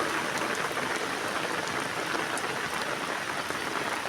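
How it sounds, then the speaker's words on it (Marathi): Continuous heavy monsoon rain in Ratnagiri, Konkan, falling near the river in a dense, even hiss of drops striking surfaces, steady and loud throughout with no voices. "48 तास सलग पाऊस पडतोय."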